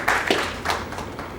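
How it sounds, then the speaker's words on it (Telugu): A lecture audience gives a short burst of applause: a few scattered, close claps and taps fading quickly into a quiet room. "చప్పట్లు కొట్టారండి మీరందరూ, సంతోషం."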